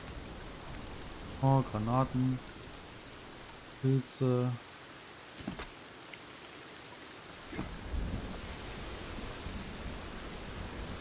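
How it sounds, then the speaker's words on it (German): Steady rain with occasional thunder rumbles in the survival game Sons of the Forest, a constant wash of downpour throughout while someone speaks briefly in short bursts over it. "Also, das ist der Regen."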